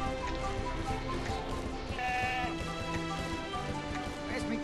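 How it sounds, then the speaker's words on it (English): A goat bleats in the Skylanders Giants video game, its voice rising out of a dense, steady bed of game music and ambient sound, with a brief wavering call near the middle. "What is that goat doing over there?"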